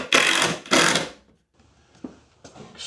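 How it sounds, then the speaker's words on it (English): A screw is driven into a piece of wood held against a vise, with two loud, close bursts of grinding followed by quieter, scattered creaks and clicks. "just drive the fucking screw in, John."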